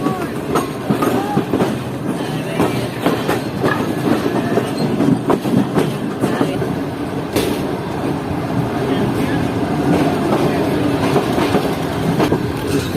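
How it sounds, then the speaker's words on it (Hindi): The Karakoram Express passenger train rumbles loudly and close over the tracks while braking and slowing, with continuous rattling and clattering from the wheels and carriages. "ट्रेन ने पहले ही ब्रेक लगाना शुरू कर दिए हैं और इस वक्त तक ट्रेन काफ़ी स्लो हो चुकी है"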